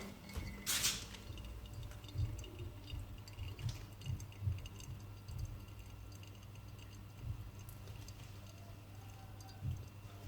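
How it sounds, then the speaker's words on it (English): Coffee dripping slowly through a Hario V60 pour-over dripper into a vessel below, soft irregular drips and ticks over a low steady hum, quiet and close. "So you can hear that slowly dripping through now."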